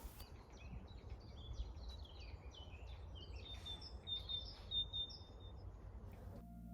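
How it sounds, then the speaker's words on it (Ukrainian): Birds sing in a rural garden, heard as a series of bright chirps and whistled trills at moderate distance over a soft, steady background hum, fairly quiet overall. "Трішки вам залишила натурального звуку, щоб ви відчули цей вайб, такий майже сільський із співом пташок"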